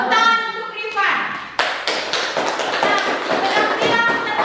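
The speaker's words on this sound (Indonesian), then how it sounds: "Tepuk tangan untuk Rifan" An audience gives a performer named Rifan a round of clapping, irregular and moderately loud, starting after a voice speaks.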